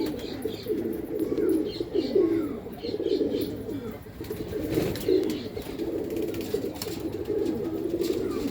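Several racing pigeons coo nearby in low, throaty, rolling bursts that repeat throughout, with a few faint chirps in the background.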